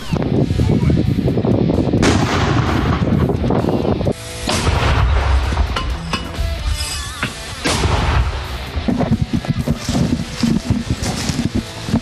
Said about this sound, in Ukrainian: Нині працюють з легким озброєнням мінометом калібру 82.